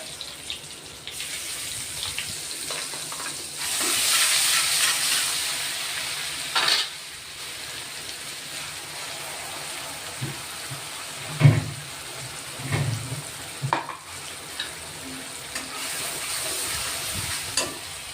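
Asafoetida and ground masala fry in oil in a pan, giving a faint, steady sizzle broken by intermittent stirring scrapes and soft knocks.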